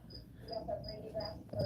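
Feeder crickets in a pet enclosure chirp in short, regular, high pulses about three times a second, faint over a low background hum.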